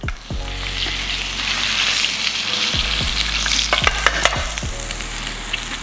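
Steak frying in a hot pan, with a loud continuous sizzle and spatter close up and several sharp clinks and scrapes of a utensil against the pan, rising slightly in intensity toward the end.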